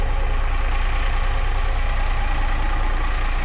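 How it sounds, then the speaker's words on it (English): A cold boat engine, idle for two to three weeks, runs at idle with a loud steady low rumble and mechanical clatter, close up and unbroken, with no talk. "First time the engine's been started for about 2 to 3 weeks, so she was pretty cold."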